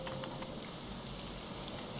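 Steady, dense rain patters over the whole stretch in Morrowind, an even wash of droplets with no pauses and no voices.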